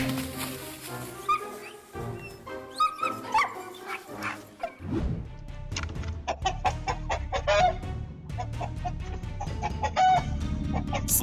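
Chickens in a coop, a rooster and hens, cluck and squawk in an agitated, overlapping jumble; a dog-like bark also breaks in.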